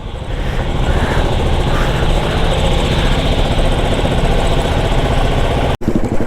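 Loud, continuous engine roar from a Royal Enfield motorcycle whose silencer filter has been removed, giving a direct open exhaust; a steady, close rumble holds throughout with a brief drop near the end.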